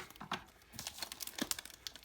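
A silver bag wrapped around a diecast toy car is crinkled and torn open up close, with a quiet flurry of crackling rustles and sharp little rips for a couple of seconds.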